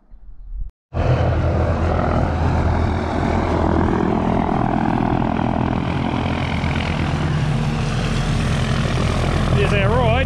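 A small propeller plane flying into South Westland for a tahr and chamois hunt drones loudly and steadily at close range, its engine roar kicking in after a brief pause and holding constant.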